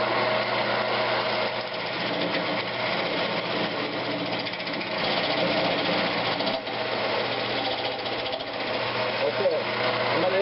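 Wood lathe spinning a pecan vase blank while a tenon is cut: a steady, continuous motor whine with a rough chattering texture, close and loud throughout without pause.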